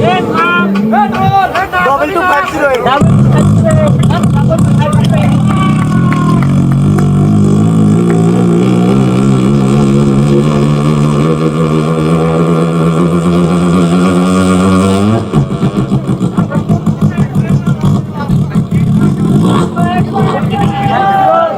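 A performer's voice mimics an overloaded tempo auto-rickshaw engine on stage, a long rough, sputtering drone that strains and rises in pitch, loud and close, with a crowd audible around it.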